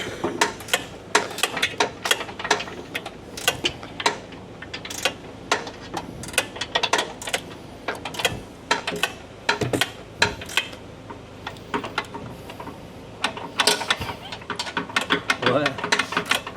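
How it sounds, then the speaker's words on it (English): A hand ratchet wrench clicks in quick bursts while turning bolts on a Jeep 392 bumper during a fairlead plate and winch install, the sharp ratcheting repeating again and again, with people talking between strokes. "Oh, here, I got a ratchet for that."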